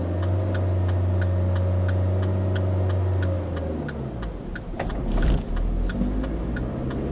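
A learner's car engine runs steadily during a driving lesson, with a low hum that shifts pitch as the revs change, accompanied by a regular ticking like an indicator; no speech.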